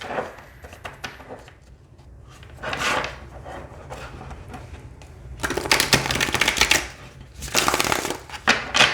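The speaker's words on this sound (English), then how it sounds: "All right, so let's shuffle this deck." Tarot cards riffle and shuffle in several quick bursts, crisp papery flutters close up, separated by brief pauses with softer handling noise between.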